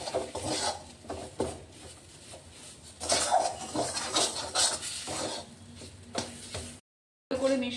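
Green pea kachori filling with gram flour is stirred and scraped in a kadai, repeated close rasping and rubbing strokes of a spatula against the metal pan, irregular in rhythm, with a brief silent break near the end.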